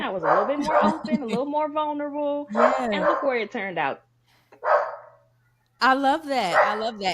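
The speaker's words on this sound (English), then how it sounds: "That's the dog." Lucy, a dog, barks nearby in short bursts that mix in with two people talking back and forth, and one bark stands out briefly during a pause.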